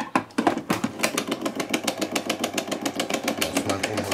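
An ice cream machine motor churns pineapple ice cream with a steady, rapid mechanical pulsing, loud and close, running evenly with no talking over it.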